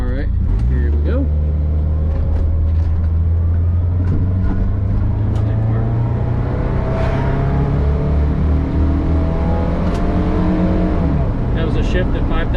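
From inside a Volkswagen Vanagon fitted with a K24A engine, the motor winds up loudly through the gears, its pitch climbing steadily before dropping at a shift near 5,000 RPM, then pulling up again.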